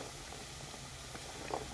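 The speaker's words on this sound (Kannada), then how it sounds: "ಈಗ ನಾನು ಬೆಂಡೆಕಾಯಿನ ಸೇರಿಸ್ಕೊತಾ ಇದ್ದೀನಿ." Cut okra goes into a hot frying pan for a bhendi aloo masala fry, giving a soft, steady sizzle and faint bubbling up close for under two seconds, with no voices.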